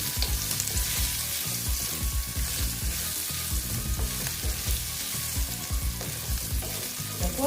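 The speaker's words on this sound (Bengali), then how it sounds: "আলুগুলোকে আবার আমি সুন্দর করে ভেজে নিচ্ছি" Potatoes crackle and sizzle in a hot pan, loud and close, with steady bursts of spattering and occasional stirring, no talking.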